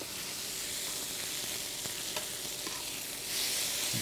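Veal cutlets sizzling steadily in a hot pan as the meat is turned, a dense, close frying hiss with a few soft clicks and a brief swell near the end, no talking.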